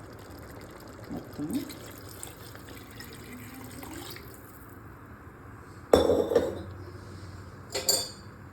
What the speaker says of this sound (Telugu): ఇప్పుడు మనం ఈ వాటర్ వేసేసుకుందాము